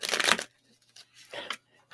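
Tarot cards are shuffled in two bursts of papery riffling and crinkling, a louder one at the start and a shorter one near the end, with quiet gaps between.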